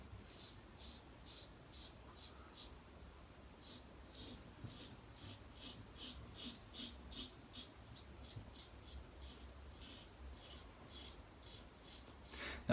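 A Wickham 1912 safety razor shaves with the grain, making quiet, close, rhythmic rasping strokes, a dozen or more short scrapes in an irregular series.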